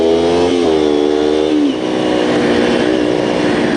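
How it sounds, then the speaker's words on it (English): A Kawasaki 250 Ninja motorcycle pulls away from a stop with the clutch feathered, its engine revving loud and close and climbing steadily in pitch, then dropping briefly around a shift before pulling hard again. "Feather the clutch."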